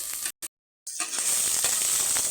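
Fresh mint leaves fry in masala paste for a jackfruit dum biryani, giving a loud, steady, close hiss. The sizzle cuts out briefly near the start, then returns stronger and continues with no voices.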